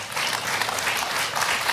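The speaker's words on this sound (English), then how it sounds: "Now that's worth an applause." Loud, dense applause from a crowd at a vice-presidential economic opportunity tour event, a steady unbroken wash of clapping sustained for under two seconds, close and full.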